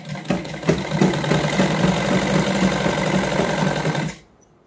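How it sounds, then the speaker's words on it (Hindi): Sewing machine stitching a salwar, a steady mechanical whirring run for about four seconds before it stops, close and clear with no talk. "तो चलिए सिलाई लगाते हैं।"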